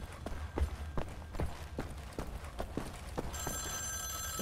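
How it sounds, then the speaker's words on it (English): A telephone rings in the video game Wolfenstein: The New Order, heard faintly under a run of regular thumping footsteps, with a brighter, sustained ringing tone entering near the end. "Phone's ringing."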